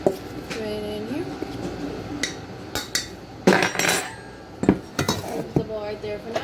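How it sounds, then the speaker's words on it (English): A spoon clatters and scrapes around a bowl as a flour mixture is mixed, producing irregular clinks and knocks with a few louder bangs, while a voice talks in the background now and then. "Next we're just gonna mix the flour mixture up."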